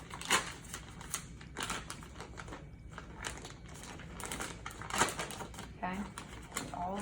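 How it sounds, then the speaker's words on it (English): A peel-open peri care supply kit is opened, giving a run of close crinkling, tearing and crackling packaging sounds in short bursts, with quiet movement between them and no speech. "So we're gonna open our kit."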